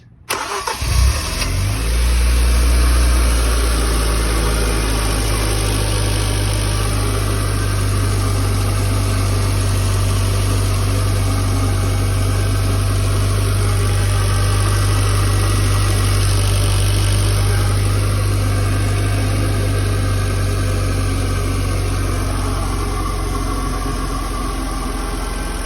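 A Hyundai Genesis Coupe 2.0T engine cranks and catches, then settles into a steady, loud, close idle with a low, even hum for about twenty-five seconds and no one talking.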